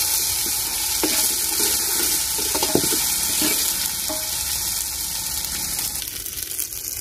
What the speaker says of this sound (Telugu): ఇదిగోండి ఇప్పుడు అల్లం వెల్లుల్లి పేస్ట్ వేగింది.